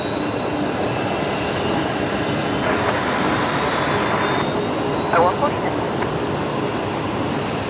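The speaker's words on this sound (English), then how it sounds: "Another Fokker on pushback, making a racket there." Fokker airliner at Brisbane Airport on pushback, its engines giving a loud steady roar with a rising high-pitched whine, a voice speaking briefly over it.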